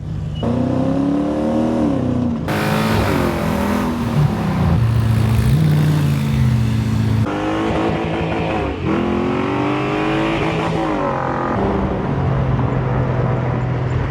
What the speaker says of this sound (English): This is a very fast car.